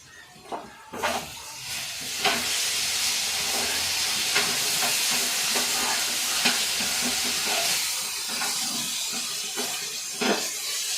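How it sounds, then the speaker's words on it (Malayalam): Mango mixture sizzles steadily in a pan while it is stirred, a loud continuous hiss with the spoon scraping and knocking now and then. "ഇതിങ്ങനെ ഇളക്കി കൊടുക്കുക അടിയിൽ പിടിക്കാണ്ട ഓവർ കരിയാണ്ട്"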